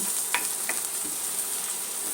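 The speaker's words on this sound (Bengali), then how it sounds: "পেঁয়াজ মরিচ লবণ দিয়ে আগে ভেজে নিব চিংড়ি মাছটা দিয়ে দিব" Prawns frying in a pan with onion, chilli and salt give a steady, fairly close sizzle, broken by a couple of brief stirring scrapes near the start.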